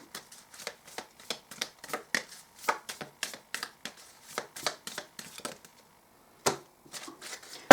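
Oracle cards are shuffled in a rapid series of crisp riffling bursts, close and distinct, followed by a few slower single cards being drawn and set down.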